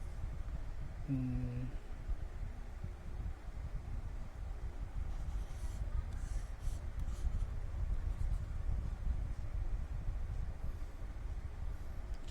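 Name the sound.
writing on a tablet with a pen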